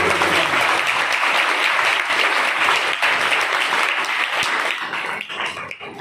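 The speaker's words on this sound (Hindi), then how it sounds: "जोरदार ताली फिर से" Loud applause from a congregation during a Sunday service at Jesus Love's You Church in Doraha, Punjab, a thick sustained roar of clapping that fades slightly in the last second.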